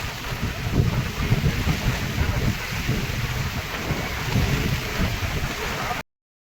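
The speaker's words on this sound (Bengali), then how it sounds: "প্রচুর জোরে ঝড় বৃষ্টি হচ্ছে, অনেক জোরে" Heavy rain and strong storm wind at Puri beach beside the sea, a loud continuous roar with buffeting gusts on the microphone that stops abruptly.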